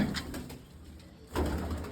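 Pigeons cooing softly in a loft or yard where a handful of birds are being flown, brief low calls at moderate distance with some background noise and no talking.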